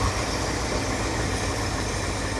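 A 1977 Ford F600 truck engine idles with spark plug wires pulled, running on missing cylinders. It gives a steady, close, dense rumble with no talk over it.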